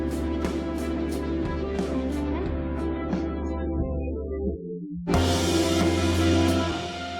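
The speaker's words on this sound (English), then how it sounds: "there's just a drop, which is just me automating digitalis packet loss right here" Dreamy synth music breaks apart under an automated digital packet-loss effect, the sound thinning and cutting out into near silence before a full, bright wash of sound crashes back in.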